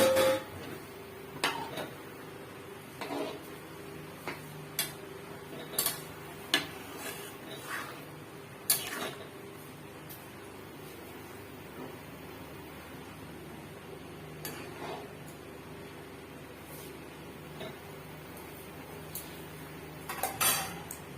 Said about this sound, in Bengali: চিংড়ি মাছটা দিয়ে ভালো করে এর সঙ্গে মিশিয়ে দেব।